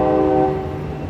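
An Amtrak Capital Corridor train at Oakland's Jack London Square station sounds its horn: a loud, steady multi-tone chord that fades slightly near the end.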